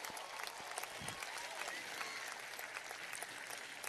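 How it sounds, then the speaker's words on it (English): Graduation ceremony audience clapping steadily throughout, a dense, continuous wash of applause from a sizable crowd in a hall, loud and sustained without pause. "Come on, clap your hands."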